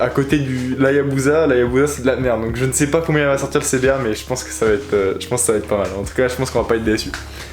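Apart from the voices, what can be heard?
No everyday noises stand out.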